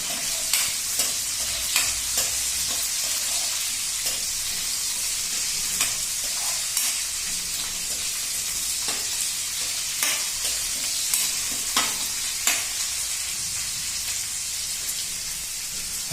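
Green chillies frying in a pan for dahi fry hiss with a constant sizzle and crackle, while regular spoon scrapes tick through it at a steady pace, close and uninterrupted by voices.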